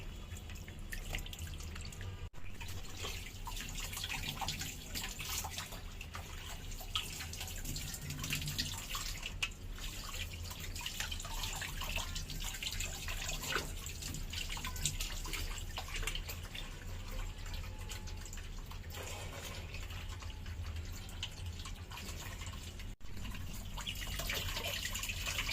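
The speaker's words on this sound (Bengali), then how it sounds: "সবগুলো কাটাকাটি শেষ, এখন ধুয়ে নিচ্ছি।" Tap water runs steadily while cut sea fish are washed, a continuous close hiss with light splashing and dripping and no voices.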